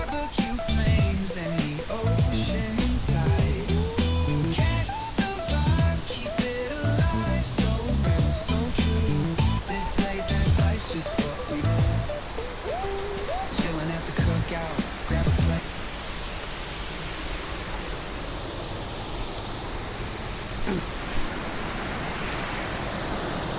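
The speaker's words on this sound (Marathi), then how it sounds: "गारंबीच्या धबधब्यावर पुन्हा एकदा स्वागत." Garambi waterfall rushing as a loud broadband roar, steady and close, with voices talking over it through the first two-thirds before the torrent continues almost alone.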